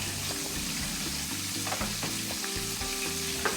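Chicken sizzles and crackles in a hot pan, a constant frying hiss with occasional stirring or scraping.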